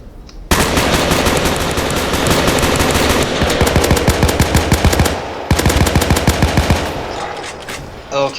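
Machine gun fire in a WW1 video game, long loud bursts of rapid automatic shots rattling continuously, with a short break before another sustained burst.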